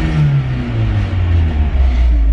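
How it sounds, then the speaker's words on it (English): A Mazda Miata rally car with a new engine setup and a rattling exhaust idles and revs loudly up close, its steady low engine drone rising and falling. "There's a pretty big rattle in the exhaust."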